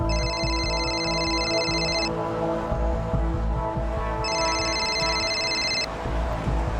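A phone rings in a tense police crime drama scene, with two bursts of electronic ringing tones, one early and one later, over a steady backdrop of music.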